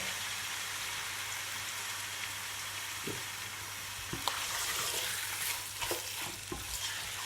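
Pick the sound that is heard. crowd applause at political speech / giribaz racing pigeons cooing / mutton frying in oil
mutton frying in oil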